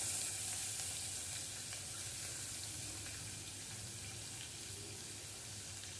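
Curry leaves, ginger-garlic paste and chopped chilli sizzling in hot oil for bread pakoda, a steady hissing fry with a low background hum, fairly faint and even throughout, no voices.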